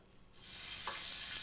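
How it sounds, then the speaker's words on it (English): Tofu egg scramble hitting a hot pan, a quiet moment suddenly giving way to a loud, steady hiss of sizzling that continues without letup. "You're gonna hear the sizzle."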